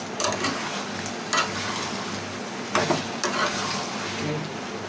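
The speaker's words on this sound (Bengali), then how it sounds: "চিনিটার মধ্যে ভালো করে কষাবো যাতে চিনিটা ভালো করে" A utensil scrapes and stirs sugar in a pan over a soft continuous sizzle, with a few sharper scraping strokes at irregular moments.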